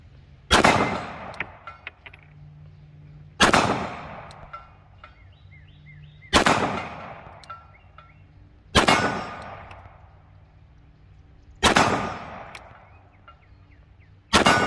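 Five loud, evenly spaced metallic clangs ring out as 9mm rounds from a Glock 17 Gen 5 pistol strike steel targets, each impact decaying over a couple of seconds with no talking.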